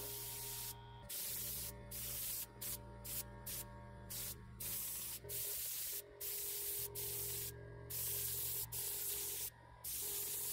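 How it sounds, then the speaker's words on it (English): Bursts of spray paint hiss start and stop repeatedly as a door is painted white, each lasting about a second, close by over a steady low hum. "I'm just going to spray the door white on both sides"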